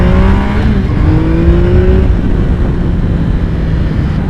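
A 2016 Triumph Speed Triple S motorcycle riding on small country roads, its engine loud and close with a steady droning note that shifts pitch as it pulls along, mixed with wind rush.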